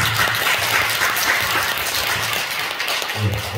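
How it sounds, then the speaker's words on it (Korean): A church congregation at a Sunday service applauds together, a steady loud wash of clapping that continues throughout, with a faint low voice near the end. "영광의 박수를 올려주세요."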